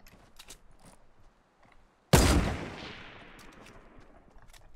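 A single loud gunshot in Fortnite cracks out after a quiet stretch and rings off in a long decaying tail, with faint game noises before it.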